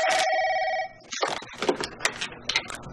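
A telephone rings loud and close with a steady electronic trill, then cuts off and gives way to clattering movement and handling noise nearby.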